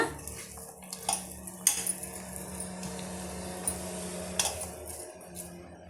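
A spoon scrapes and clinks against a pan while cardamom powder is stirred into a sweet-potato poli filling, intermittent metallic knocks over a low steady kitchen hum, close and fairly quiet.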